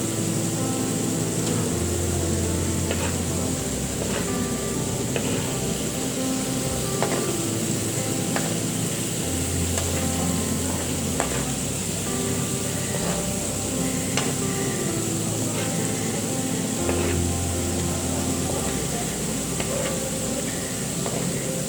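Fried liver (kaleji) stirred and fried in masala in a pan, a steady sizzle with regular scraping and clinking of a spoon against the pan, plus a low background hum, continuing without talk.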